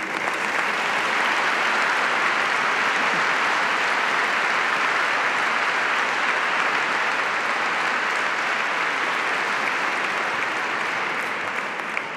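Unanimous applause for emergency services at a Balearic Islands Day ceremony, a dense, steady roar of clapping from a large crowd sustained throughout.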